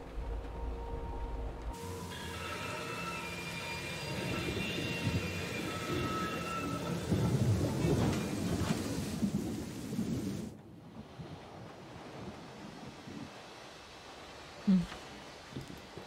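A thunderstorm rumbles in Syberia: The World Before, with heavy rain and rolling thunder building and then cutting to quieter ambience, where a brief low thud stands out near the end.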